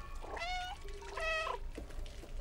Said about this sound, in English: To meow on demand.